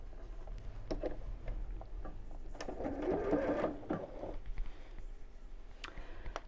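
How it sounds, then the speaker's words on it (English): A sewing machine stitches binding onto the edge of quilt fabric in a soft, steady mechanical whirr, quiet and close, with faint ticks and clicks scattered through it. "I'm going to sew in the first crease."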